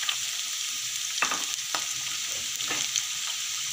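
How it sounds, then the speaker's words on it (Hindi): Onions sizzle and fry in oil in a pan for masala bhindi, a steady hiss with a few scraping stirs of the spoon, close and alone. "प्याज को अच्छी तरह फ्राई करते हैं और गोल्डन ब्राउन होने तक इनको फ्राई करना है"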